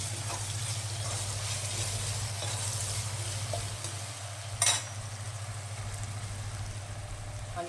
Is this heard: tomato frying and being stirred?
yes